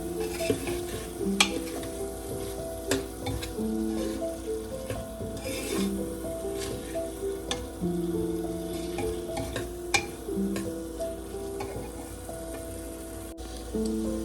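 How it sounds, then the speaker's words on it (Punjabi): Potatoes sizzle and fry in a hot tempering for dal khichdi while a spoon stirs and scrapes the pan with steady, close scraping strokes over the continuous sizzle. "ਆਲੂ ਹੁਣ 2 ਮਿੰਟ ਭੁੱਜ ਗਏ ਜੀ"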